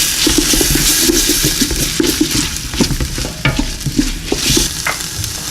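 Tomato paste fries in a pan for a meat pasta sauce: a loud, close sizzle with constant stirring and quick scraping strokes of a spoon against the pan.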